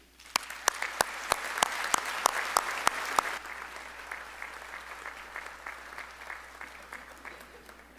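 An audience at a graduation ceremony applauds as a graduate walks up, with several sharp, close claps early on over a steady patter that thins out and fades gradually toward the end.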